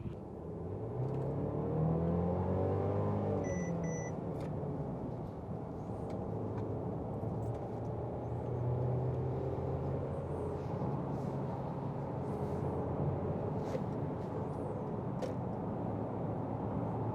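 Steady low road rumble and tire hum inside the cabin of a 2020 Mercedes-Benz GLB or GLC driving on a road, constant and moderate with a faint engine whir, no talking.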